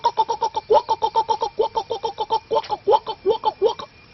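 A voice imitates the call of a white-breasted waterhen, a rapid rhythmic run of about twenty clipped, nasal pulses, steady and close, swelling slightly toward the end.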